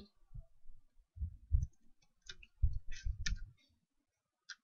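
Soft keyboard clicks and dull thumps from typing C code on a computer keyboard, coming in uneven bursts that fall quiet near the end.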